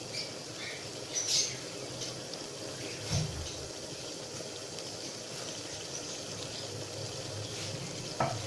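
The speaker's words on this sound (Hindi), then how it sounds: "तकरीबन 5 मिनट तक हम इसको अच्छी तरह से मिक्स करेंगे और इसको भूनते रहेंगे।" Bitter gourd (karela) stir-fries in a pan, giving a steady low sizzle broken by a few scraping stirs and clinks of the spatula, close and continuous with no voices.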